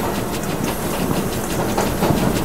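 A train passes in a video game, a loud, dense, continuous rumble and rattling hiss that fills the whole stretch without a break and swells slightly toward the end.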